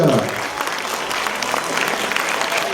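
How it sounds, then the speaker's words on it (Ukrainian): Audience applause at a Ukrainian children's and youth creativity awards ceremony: even, continuous clapping from a hall crowd, moderately loud, with a voice briefly heard at the start. "Ваші оплески!"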